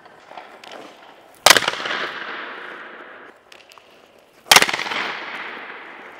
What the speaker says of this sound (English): I'm just going to shoot it in the bar